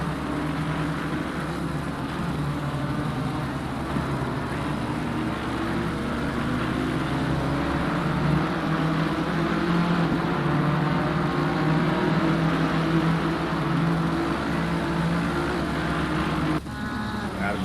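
Number 42 BMW race car engine on the Monza circuit in a sim racing league, a steady droning engine roar with other cars audible, running continuously under commentary.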